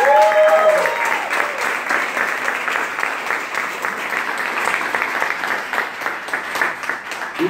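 An audience gives a strong round of applause for a speaker's wife at a live event, a dense, loud, steady wash of many hands clapping with a brief voice at the start.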